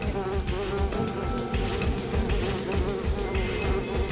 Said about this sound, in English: all the bees are on them